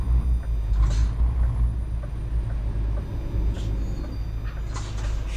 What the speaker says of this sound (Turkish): Bakın şimdi frene bastım gördüğünüz arkadaşlar